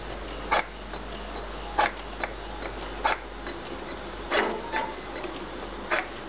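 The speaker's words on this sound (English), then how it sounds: "the printer is printing." A paper printer runs with a faint steady hum, broken by soft regular ticking clicks about once a second.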